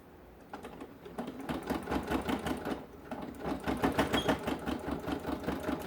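Sewing machine tacking down fabric pieces of a crossbody bag, a steady rapid stitching run that pauses briefly near the middle and then resumes, close and fairly loud with no talking.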